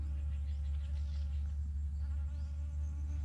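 Giant honey bees buzzing around a wild nest outdoors, a steady low droning hum that stays loud and constant throughout with no voices.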